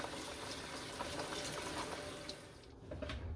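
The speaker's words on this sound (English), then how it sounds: "is wash my cherry tomatoes" Tap water runs steadily into a sink as cherry tomatoes are washed for a feta and salmon pasta, a continuous close hiss and splash that thins out near the end.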